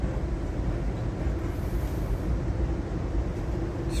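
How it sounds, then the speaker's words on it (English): An Amtrak passenger train bound for Portland, heard from inside as a steady, loud, continuous rumble of wheels and rails with no voices. "Just riding on the Amtrak here."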